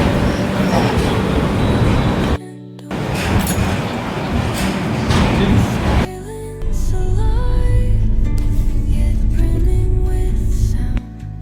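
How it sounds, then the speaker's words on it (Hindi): The 15008 Krishak Express pulls out of Lucknow Junction railway station at night, with a loud continuous rumble and rattle of carriages, rhythmic clanking over rail joints and a brief hushed gap, heard from on board. "तो ट्रेन हमारी बिल्कुल निर्धारित समय 11:10 पे लखनऊ जंक्शन रेलवे स्टेशन से निकल चुकी है।"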